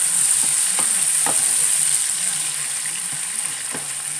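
Diced ham stirred and frying in a pot for copycat Popeye's green beans, a steady loud sizzle with a few scraping spoon strokes, no talking.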